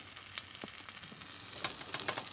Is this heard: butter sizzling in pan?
yes